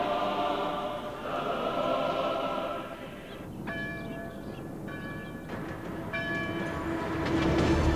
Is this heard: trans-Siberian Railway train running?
yes